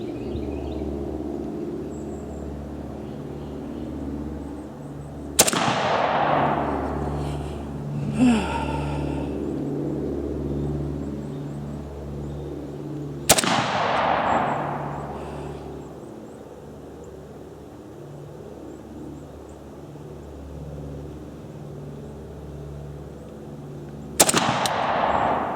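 Three sharp, loud rifle shots from a Saiga 7.62, spaced several seconds apart, each a close crack with a trailing echo, over a steady low engine-like drone.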